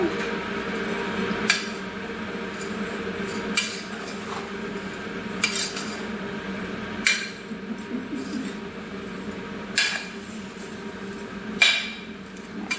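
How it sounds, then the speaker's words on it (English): A spoon stirs oats and flour in a bowl, producing a soft continuous scrape broken by a few sharp clinks against the side, close by, with a voice talking over it. "we have also on this side our oats, and we want to gently stir that here"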